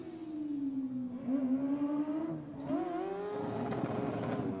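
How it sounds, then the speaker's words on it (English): A Formula Student race car engine drones on track as it passes, its pitch dipping and rising with gear changes, moderately distant and steady without speech. "their engine noise sounds a lot better"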